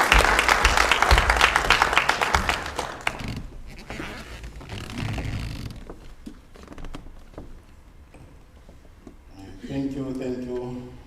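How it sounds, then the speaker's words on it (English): An audience at a Western Cape football awards ceremony claps for the association's president, loud applause that fades into scattered clapping and murmur, with a voice speaking at the end. "Let's give him a big round of applause."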